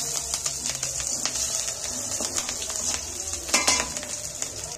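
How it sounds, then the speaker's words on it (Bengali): Chopped garlic and green chillies frying in oil, a bright crackling sizzle with light utensil clicks and stirring scrapes, close and steady with no voices. "রসুনের কুচিটা একটু ভেজে নিয়ে ফের দুটো কাঁচা লঙ্কা কুচিয়ে দিয়েছি।"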